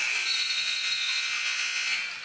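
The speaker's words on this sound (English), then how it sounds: "And a long distance shot there at the buzzer by Hanson is no good" An end-of-quarter buzzer sounds at a women's college basketball game, a loud, harsh, continuous electronic drone held steady for over two seconds and alone in the mix.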